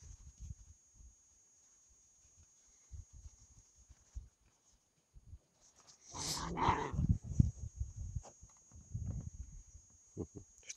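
Young sled-dog puppy giving faint, thin whimpers, then a louder burst of yelps and small barks near the middle, with scattered soft thumps and rustling around it.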